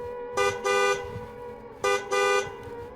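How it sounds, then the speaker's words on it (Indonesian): A car horn honks on a road in two paired blasts, each a short toot followed by a longer one, loud and close over low traffic rumble. "Ayahku kembali membunyikan klakson itu."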